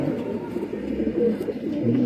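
A heavy-bodied low-flying pigeon coos in a soft, continuous murmur close by, with low throaty notes repeating through the short stretch and no talk over it.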